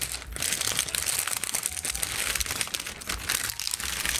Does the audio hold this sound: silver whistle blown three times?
no